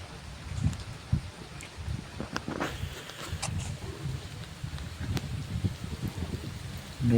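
Heavy rain pours onto a farm field where a buffalo is being washed, a dense steady hiss of falling water with scattered louder drips and splashes nearby.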